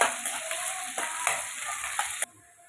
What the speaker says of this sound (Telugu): ఆనియన్ వేసుకుంటా కొంచెం వేగనివ్వాలండి